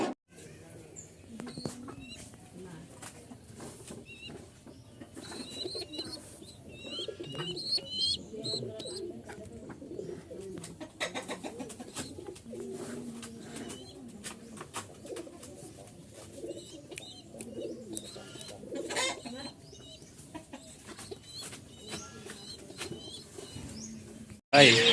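Pigeons kept in a group for sale coo softly throughout, with occasional rustling and wing flaps, fairly faint under someone talking.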